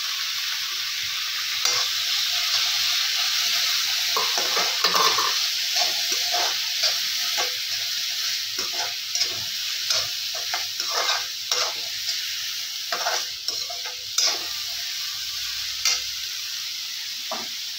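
Chopped tomato hits a pan of frying chutney and is stirred, a steady loud sizzle broken by repeated scraping spoon strokes throughout.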